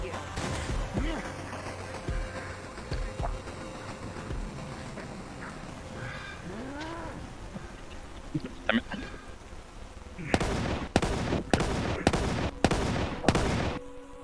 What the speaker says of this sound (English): Think you hear shots behind you.